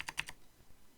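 Computer keyboard keys tapped to enter a username during an operating system setup, four quick close clicks in the first third of a second, then quiet room noise.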